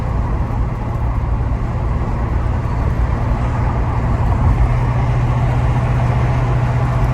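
A 1967 Ford Mustang on the move, its engine holding a steady, loud drone with constant road rumble throughout, no voices heard.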